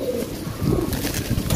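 A pigeon held in someone's hands gives close, soft, throaty coos in a low repeating rhythm over a short stretch, with faint background noise.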